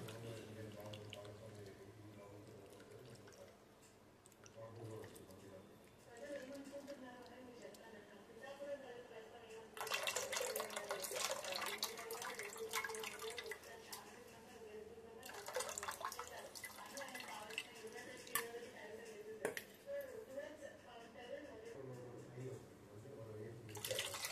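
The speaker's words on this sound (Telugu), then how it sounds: "వాటర్ కూడా సరిపడినంత వాటర్ వేస్తామండి" Water is poured into tamarind juice mixed with mashed lentils for pappu charu, coming in two close, splashy bursts of pouring, with a person talking throughout the kitchen scene.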